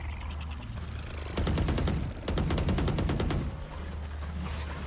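Automatic weapon sprays rapid gunfire in a Valorant esports match, two tight bursts of quick, evenly spaced shots over a low ambient game hum, fairly loud and close, with no talking.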